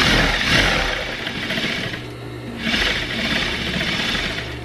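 Sewing machine stitching fabric for a homemade mop cover, a steady close mechanical whirr running in two bursts with a brief slowdown between them, no talking.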